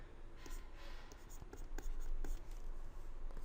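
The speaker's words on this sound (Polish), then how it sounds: "rysujemy dwie proste, szukamy punktu przecięcia" Pen or marker strokes drawing two straight lines on a coordinate grid to find where they cross, steady scratchy sliding sounds with short pauses, close and moderately loud, with no voices.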